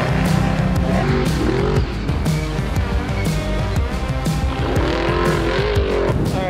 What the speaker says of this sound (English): It is trophy truck day, and we got some of those guys coming through.